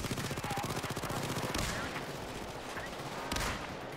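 Fast, rhythmic automatic gunfire from a sentry turret in Payday 2 rattles steadily at first, then gives way to scattered blasts, all somewhat muffled and distant.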